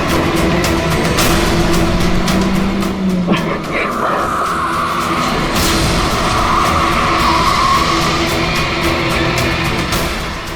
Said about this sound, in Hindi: गाड़ी की ब्रेक क्यों नहीं लग रही?